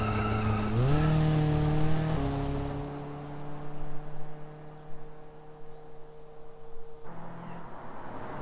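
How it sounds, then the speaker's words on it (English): Race car engine in the BeamNG racing game held at high revs through corners of the Nordschleife as it understeers, a loud, steady drone with gear changes and slight pitch shifts, alone without talk. "another understeer moment with the vehicle trying to go fast through these turns"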